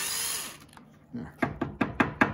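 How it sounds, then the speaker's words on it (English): A power drill bores a hole into a birch wood reindeer figure, first a faint whir, then a quick series of about five sharp, close knocking bursts as the bit bites into the wood. "we'll just drill a hole right there"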